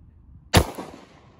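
A single sharp gunshot from a Gen 4 Glock 27 pistol fired one-handed cracks loudly and close, then decays quickly with a brief echo.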